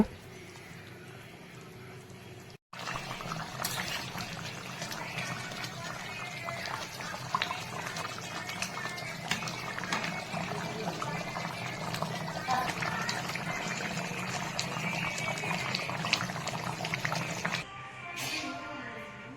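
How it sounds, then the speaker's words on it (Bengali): Boal fish curry with new potatoes bubbling in a pot after coriander leaves go in, a dense steady simmering and bubbling that holds close and even for most of the stretch, with a brief drop near the start. "ধনিয়া পাতা দিয়ে আরেকটু ভালো করে ফুটিয়ে নিয়ে নামিয়ে নেব"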